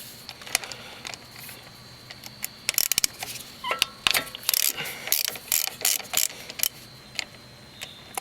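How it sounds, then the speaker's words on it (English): A ratchet with a 14mm socket loosens the brake line bolt at the front caliper of a Jeep Cherokee XJ, giving scattered bursts of quick clicking ratchet strokes between quieter pauses, close up and with no speech. "So we can go ahead and remove the bottom end of the brake line that's actually attached to the caliper. It's a 14mm socket."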